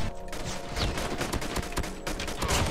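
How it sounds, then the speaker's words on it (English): Rapid gunfire from a Call of Duty Mobile match in Guns Blazing mode, including pistol shots: dense, loud bursts of shooting with no gaps, continuous across the moment. "Hit him with the pistol."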